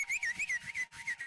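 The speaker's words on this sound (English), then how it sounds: "Gents, we can whistle." Men in the audience at a youth award ceremony at the Southern Africa Youth Forum in Johannesburg whistle in celebration, a series of shrill, wavering whistles in quick bursts, close and continuous, with no talking.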